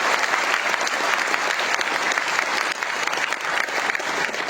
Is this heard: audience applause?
yes